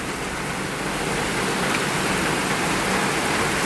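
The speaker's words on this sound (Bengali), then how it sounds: "মুষলধারে বৃষ্টি এসে গেল" Heavy rain pours down in a sudden downpour, a dense, loud, unbroken roaring hiss of water on surfaces with no talk.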